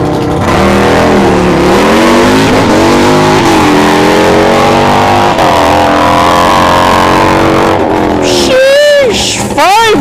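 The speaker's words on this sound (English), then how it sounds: "Harley with the Nitrous" A nitrous-equipped Harley-Davidson motorcycle at a drag strip test-and-tune session, its engine roaring loud and close in a long sustained run. Pitch rises through the gears, then a voice briefly talks over it near the end.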